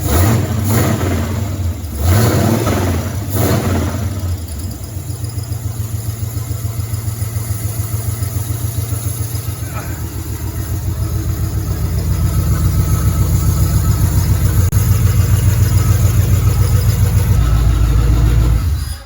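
A Chevy K5/K10 truck engine revving in a few short bursts, then settling into a loud, lumpy, rhythmic idle that grows slightly heavier toward the end, close and without talking.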